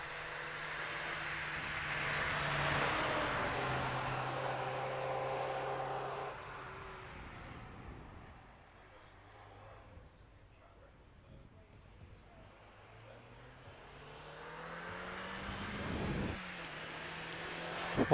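Steve Perry's 1.8-litre Mazda MX-5 accelerates away at the Prescott speed hill climb, its engine note rising through several gear changes as it pulls into the distance, with a commentator talking over it throughout.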